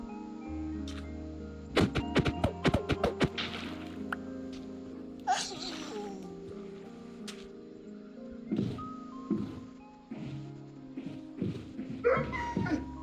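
A dog barks in short bursts in Minecraft amid game tones and a background hum, with quieter yips and whimpers following at intervals.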